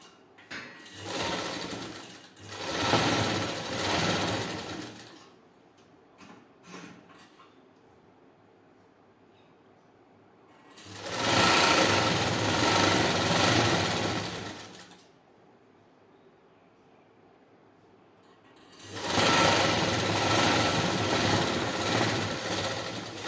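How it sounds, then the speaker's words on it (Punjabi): A sewing machine stitches a sleeve seam in three loud, steady bursts, each a few seconds long, with quiet pauses and faint handling between them. "ਆਪਾਂ ਇੱਕ ਸਾਈਡ ਤੇ ਜੋੜ ਲਗਾ ਲਿਆ"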